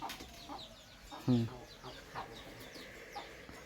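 A chicken clucks nearby in a rural outdoor setting, one clear cluck standing out against soft background murmur and faint chatter.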